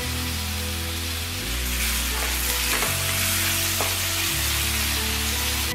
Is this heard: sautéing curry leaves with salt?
yes